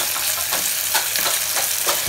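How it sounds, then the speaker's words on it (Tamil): Chopped onions, curry leaves and green chillies sauté in hot oil in a pan for a village-style dried fish curry. A steady, close sizzle with soft stirring swishes and no voices. "வெட்டி வச்சிருக்கிற வெங்காயம், கருவேப்பிலை, பச்சை மிளகா எல்லாத்தையும் ஒன்றா போட்டுடலாம்."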